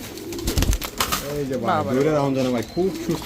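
Danish pigeons coo in soft, rolling calls close by, with someone talking over them and a brief flutter of wings.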